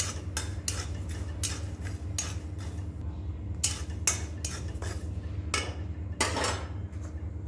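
Garlic dry-roasting in a bed of salt in a pan, stirred with a metal utensil, producing a steady series of close scraping clinks and clanks over a low constant hum.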